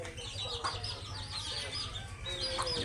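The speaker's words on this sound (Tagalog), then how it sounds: "Tingnan nyo yung mga sisiw guys" Hens and small chicks cluck and peep continuously at close range over steady background noise, with no talk.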